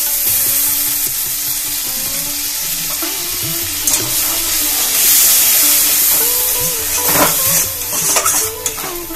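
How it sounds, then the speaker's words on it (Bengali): A spice paste made with two kinds of mustard fries in a pan, giving a loud, continuous sizzle with bursts of hissing and occasional clinks and scrapes of a utensil against the pan. "মশলাটা একটু কষিয়ে নেব, বেশি কষাবো না"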